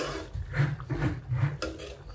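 A spoon scrapes and clinks against a cooking pan while ivy gourd curry with garam masala is stirred, a few close irregular knocks over a couple of seconds with no talking.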